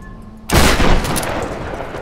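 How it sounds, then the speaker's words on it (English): Gunfire in the video game Tomb Raider 2013: a loud burst of rapid shots erupts suddenly and continues as dense, sustained fire with echoing tails. "I'm gonna shoot my way through here"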